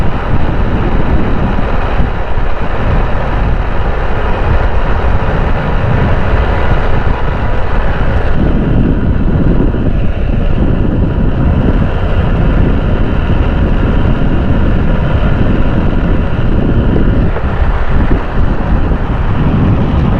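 Motorcycle riding along the newly carpeted Malir Expressway road from Sammo Goth towards Kathore, with steady loud wind buffeting the microphone and a continuous low engine rumble throughout, no talking.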